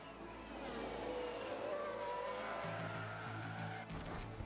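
A Ferrari race car crashes and skids in F1 Manager 22 on the Baku street circuit: a steady engine roar with tire noise, a low droning tone joining partway through, then an abrupt cut near the end.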